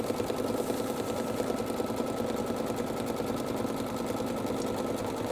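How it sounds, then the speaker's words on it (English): An embroidery sewing machine stitches a reverse appliqué notebook cover, a fast, even mechanical whirr with a rapid needle rhythm that runs steadily and close up without pause. "So as it sews, I just want to make sure that nothing gets eaten with my presser foot."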